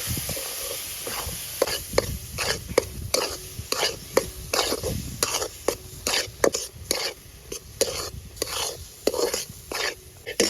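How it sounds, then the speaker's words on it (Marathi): Semolina roasting in a pan with mango pulp, stirred in quick repeated scrapes over a soft sizzle, close and fairly quiet with no talk. "आता रवा आता चांगला भाजून घेऊ. आता आपला रवा चांगला भाजला आणि आंब्याचा रस काढून आता त्याच्यात टाकून घ्यायचा."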